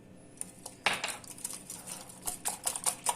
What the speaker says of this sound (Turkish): Bunu birazcık çırpacağım.